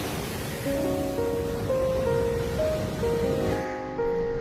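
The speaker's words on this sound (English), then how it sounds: "Waves at normal speed." Ocean waves at normal speed wash and roar as a steady broadband surge, with a faint tonal hum running underneath until the sound thins near the end.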